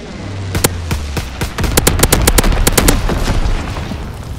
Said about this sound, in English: Low altitude bomber inbound. Incendiary mission commenced.